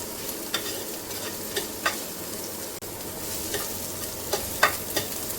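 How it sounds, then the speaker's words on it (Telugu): Mint and coriander frying and being stirred in a pan, a steady soft sizzle broken by several scraping stirs at irregular intervals, close and alone without talk. "వేసి ఫ్రై చేయాలి."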